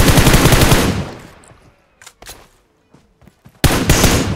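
Automatic gunfire aimed at the player in the mobile battle royale game PUBG Mobile, loud close bursts of rapid shots separated by a quiet gap with scattered single cracks, then another burst.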